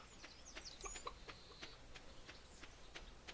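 Soft clucking and short chirpy calls from chickens in Stardew Valley, faint and scattered over a low ambient background.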